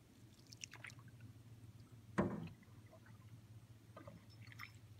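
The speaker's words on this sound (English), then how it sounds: "Paddle into the headwaters now." Quiet, clear, glassy water at the headwaters of Spring Creek in Oregon, with a canoe paddle stroke splashing once near the middle, soft drips and trickles around it over a faint steady hum.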